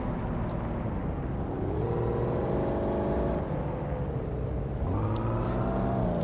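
A 2012 Range Rover in the City Car Driving game cruises with a steady engine drone that climbs in pitch as it accelerates, dips at a gear change, then rises again, with no talking.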